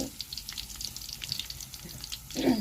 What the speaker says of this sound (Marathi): जिरे पण तळून घेते